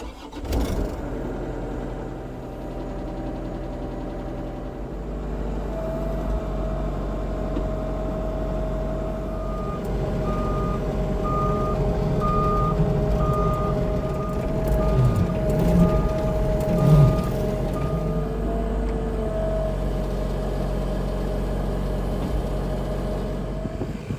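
A CAT 304 mini excavator runs at a steady mid-pitched idle during land clearing, close and continuous, with a short series of evenly spaced beeps from about six to fourteen seconds.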